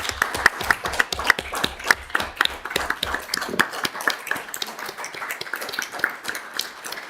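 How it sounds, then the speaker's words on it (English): Applause from people in a council chamber meeting for a Civil Defence Emergency team, a few seconds of scattered, uneven clapping that thins out toward the end. "I'd just like some applause for them"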